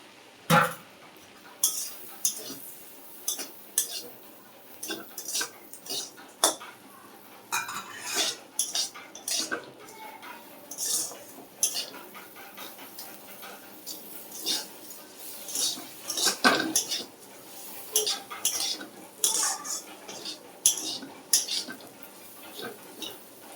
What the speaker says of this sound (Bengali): সিমটা দেখো মোটামুটি ভাজা হয়ে এসছে, আর একটু ভাজবো বাটারে